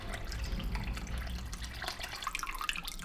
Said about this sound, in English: top it off with all the water.